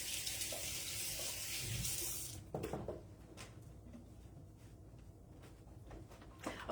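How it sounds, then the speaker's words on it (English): A kitchen tap runs as a hand is rinsed under it, a steady close hiss of water for about two seconds, then it shuts off, followed by faint handling noises. "I'm just going to wash my hand here a little bit."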